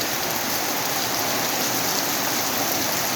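Heavy afternoon rain pours steadily over a school ground, a dense, unbroken hiss of falling water that stays loud and even throughout, with no voices.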